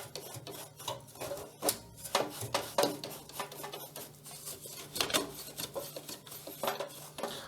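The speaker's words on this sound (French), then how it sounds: "on vient passer le pinceau un peu partout" A paintbrush sweeps dust off PC components in soft, irregular scratchy strokes, close up and fairly quiet, with no voices.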